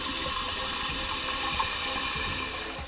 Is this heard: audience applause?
no